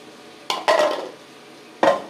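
Lentils being rinsed and shaken in a pot for a Pongal kootu, giving three brief, close splashing clatters, the last one separate after a short pause.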